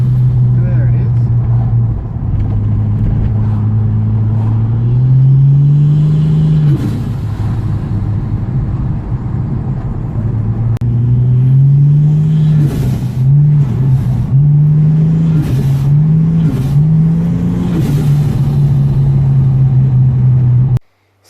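A turbocharged Ford BA Falcon Barra engine fitted with cold-side piping and blow-off valves idles loudly up close, then revs up and back in repeated blips, with a hiss after some revs and someone talking over it.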